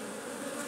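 Honeybees swarm around a Biostupi beehive fitted with supers, ready for the late-May nectar flow, making a dense, steady close-up buzz that holds without pause throughout.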